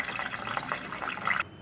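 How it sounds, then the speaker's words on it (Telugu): Tap water runs into a vessel of rice for washing in a home kitchen, a steady soft stream of moderate loudness that cuts off abruptly near the end. "వాటర్ పట్టుకోవాలి, తర్వాత అలా పెట్టేసుకోవాలి."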